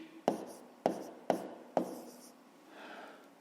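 Pen or chalk writing out a fifth-grade math subtraction solution, four sharp close taps and strokes in a row followed by a softer scratch, with no talking.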